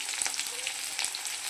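Close, continuous sizzle of cauliflower frying in a pan, scattered with small spitting pops and faint stirring scrapes; no voices.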